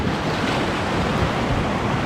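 Whitewater rapids at low water on a rocky river roar in a dense, continuous rush heard from a kayak, loud and close throughout with steady wind buffeting.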